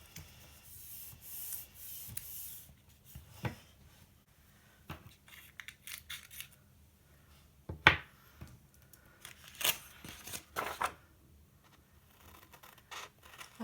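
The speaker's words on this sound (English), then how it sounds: "I'm using Westcott titanium scissors. These are really useful scissors." Sharp-pointed Westcott titanium scissors snip washi tape for a planner page, giving faint scattered crisp cuts and rustles with a few louder clicks in between, heard alone in a quiet room.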